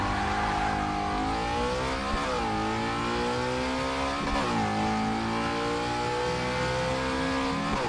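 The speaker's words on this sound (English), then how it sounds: "this car definitely sounds better in Forza Horizon 3" In a Forza Horizon demo, a car engine revs and climbs through the gears, each pull rising in pitch before dropping at a shift, loud and continuous throughout.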